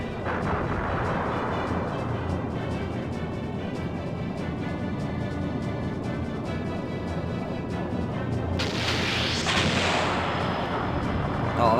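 Dense, rapid cannon fire from an airship battle in the video game Skies of Arcadia, a continuous barrage of booming shots over a roaring mix, with a brighter burst of impact noise near the end.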